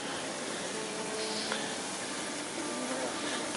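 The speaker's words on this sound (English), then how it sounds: "This is the first time I've ever had French fries cooked over a yak dung fire." French fries sizzle in a pan over a yak dung fire on a Kanchenjunga trek in Nepal, a steady close hiss of bubbling oil running unbroken for a few seconds.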